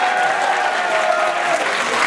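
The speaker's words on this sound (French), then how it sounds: "Vas-y, on applaudit." Audience at a cosplay solo contest in Saturday's session, applauding a cosplayer from Germany; steady, dense clapping from a sizeable crowd, sustained and even throughout with no pauses.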